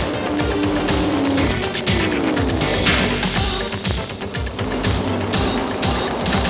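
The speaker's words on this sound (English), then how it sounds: "The artful practice of speed in racing American stock cars." Loud, continuous roar of American stock cars racing at close range, engines screaming with intermittent tire squeal throughout.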